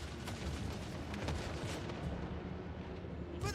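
Hand gunners firing in Total War Warhammer, a rumbling series of booming gunshots and cannon-like blasts overlapping in a dense battle din, ending with a sharp crack.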